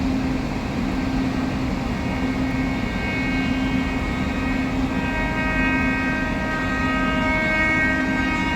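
A Bhubaneswar Tejas Rajdhani Express overtaking on the adjacent track gives a steady, loud rumble of wheels and rails that holds throughout, with a faint sustained horn-like tone riding on top.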